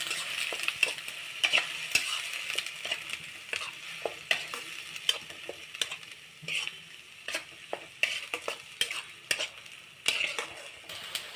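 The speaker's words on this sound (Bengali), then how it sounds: "পেঁয়াজ বাটাটা দিয়ে দিচ্ছি। আমার পেঁয়াজটা হালকা একটু ভেজে নিয়ে আগে।" Onion paste fries in a pan with a steady sizzle while a spoon scrapes and stirs in irregular strokes. It is close and moderately loud, with no talking, as restaurant-style masala paneer is being made.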